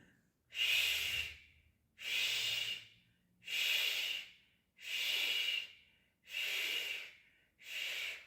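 Rhythmic breathing during a breathing gymnastics exercise, with six even, airy breaths, each lasting about a second with short pauses between them, close and fairly quiet, with no speech.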